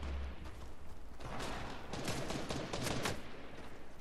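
Rapid bursts of video game gunfire crackle through a dense, sustained barrage, loud and close, thickening in the middle of the stretch into overlapping volleys with no voices.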